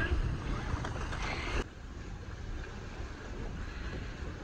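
A sailboat under way through Eggemoggin Reach, heard as a steady rush of wind and water that is louder at first, then drops to a softer, even wash for the rest of the clip, with no voices.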